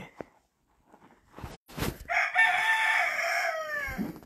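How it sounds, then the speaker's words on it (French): A rooster crows once loudly and close, a long drawn-out call after a few scattered rustles and clucks, with a brief low thud at the end and no talking. "Bonjour, monsieur le coq."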